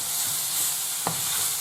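Minced kefta meat frying with onion in a pan, a steady close hiss of sizzling with a couple of soft scraping stirs, no talking.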